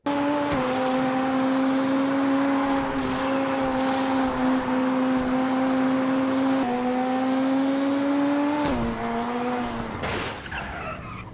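A DTM race car engine in a sim racing game drones at high steady revs through a long pull on the Nordschleife, then drops sharply as it shifts and brakes, with tire squeal near the end.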